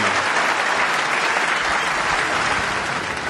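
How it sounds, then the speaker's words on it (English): A Crucible crowd applauds at the 2012 Snooker World Championship, a dense, sustained wash of clapping that fills the hall and stays loud throughout. "And what a reception Ronnie O'Sullivan gets from this Crucible crowd."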